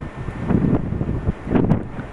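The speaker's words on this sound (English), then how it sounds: "it's windy" Wind buffets the microphone beside a building at a protected whale-watching lagoon in Baja California, a steady low rumbling roar with gusty swells and no speech.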